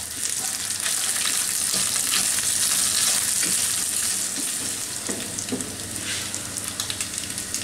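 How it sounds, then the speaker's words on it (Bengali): Cashew nuts and chicken fry in hot oil while being stirred, giving a steady, close, loud sizzle with scraping stir sounds throughout and no talking. "তো এর সাথে মিনিট খানেক ধরে নাড়াচাড়া করলেই কাজু বাদামটা ভাজা হয়ে যাবে।"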